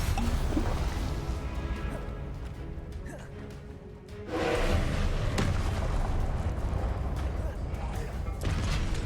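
Spell blasts in Hogwarts Legacy: a fiery Confringo-style burst and other magic impacts thump and crash amid dense combat noise, growing louder midway, with a person talking over it.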